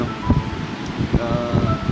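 Gusty seaside wind buffets the microphone in rumbling bursts, with a faint rustle and a soft wash of surf behind it.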